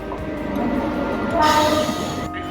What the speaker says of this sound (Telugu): ట్రైన్ అయితే వచ్చింది ట్రైన్ ఇప్పుడు ఈ ట్రైన్ అయితే ఎక్కుపోతున్నాం